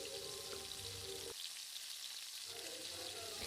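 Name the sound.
carrots and potatoes frying and stirred in pan with onions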